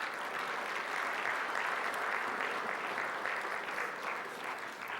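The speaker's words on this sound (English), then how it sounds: "I ask all of you to give yourselves a big round of applause for being here tonight." A large audience at an athletics hall of fame evening gives a sustained round of applause, a dense, even wash of many hands clapping at once, steady and moderately distant throughout.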